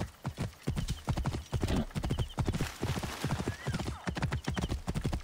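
Rhythmic horse hooves clop at a steady gallop-like pace in the video game Assassin's Creed Origins, with a faint whinny and a voice speaking briefly underneath.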